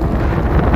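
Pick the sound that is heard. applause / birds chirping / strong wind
strong wind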